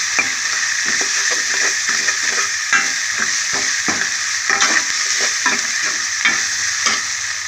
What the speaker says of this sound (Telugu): అల్లం వెల్లుల్లి బాగా ఫ్రై అవుతుంది అన్నమాట